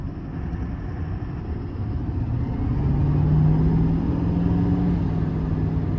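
Chevy Silverado 2500HD High Country Duramax diesel truck accelerating, a deep engine rumble that swells and rises in pitch midway before easing, heard from inside the cab with no talk.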